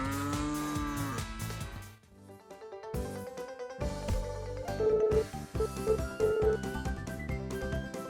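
A cow moos in the farming game Story of Seasons: A Wonderful Life, a long drawn-out low call heard clearly over cheerful background game music, with no talk.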